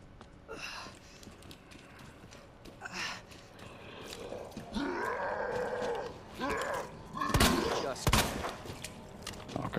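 Gunshots in the Resident Evil remake during a licker fight, several sharp loud shots scattered among growls and groans, with a voice talking in between.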